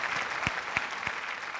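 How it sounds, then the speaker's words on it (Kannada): Brief applause from an audience at a special celebration event, a short wash of clapping with a few distinct louder claps, fairly distant and soft. "ಅದಕ್ಕೋಸ್ಕರ ಚಪ್ಪಾಳೆ ಹೊಡಿತೀವಿ"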